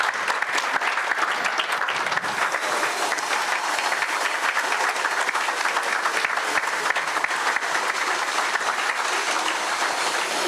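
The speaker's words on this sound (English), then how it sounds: "I think it deserves another round of applause" Sustained audience applause fills a car launch event for an EV, a dense steady wash of clapping throughout with no talk over it.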